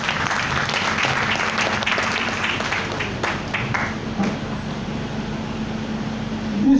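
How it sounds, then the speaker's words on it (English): A church congregation claps briefly, moderately loud, the clapping fading into room hum and a low mechanical drone. "If you are clapping, clap for Jesus."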